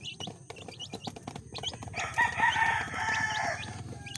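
A caged rooster crows loudly nearby, one long drawn-out call rising over a background of clucking fowl and other farmyard noise.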